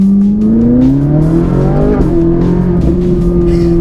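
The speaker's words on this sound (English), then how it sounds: "It makes a cool noise when you downshift like that" A Liberty Walk widebody Ferrari's engine roars up and drops in pitch as it downshifts into second gear, then steadies at a high-revving drone, loud and close.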